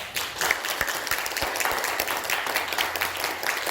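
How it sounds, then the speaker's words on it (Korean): A church congregation at a Sunday worship service claps warmly, a fairly loud burst of many hands with a few sharper single claps near the start that then settles into an even patter. "박수해 드립시다"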